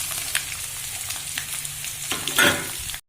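Capsicum and beans frying together in a pan for fried rice, a steady close sizzle with scraping stirs and a louder spatula scrape near the end.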